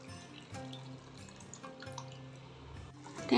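Tamarind water poured into a pot of cooking bisibelebath, a faint soft trickle and drip of liquid ending in a louder splash, close and quiet.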